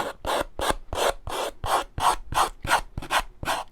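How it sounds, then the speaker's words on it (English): A file rasped hard along the paper edge of a decoupaged wood piece, in about a dozen quick, even back-and-forth strokes, close and loud with no talking. "I'm really forcefully sanding this."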